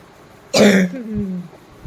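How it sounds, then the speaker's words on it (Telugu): A woman with a light cough clears her throat once, a short close rasping burst that trails into a brief hoarse tone in a quiet indoor setting. "ఇంకా లైట్గా దగ్గు వస్తుందండి."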